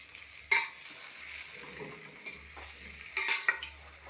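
Stuffed brinjal sizzles quietly in a pan while a spoon scrapes and stirs it in a few brief strokes, with no one speaking.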